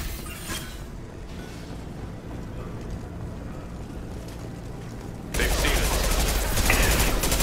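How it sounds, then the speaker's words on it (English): Gunfire in the video game Mass Effect 2 as Blue Suns mercenaries and Vorcha open fire: a dense rumbling barrage of shots that swells suddenly louder near the end, continuous and close. "The Blue Suns and Vorcha are shooting anything that moves."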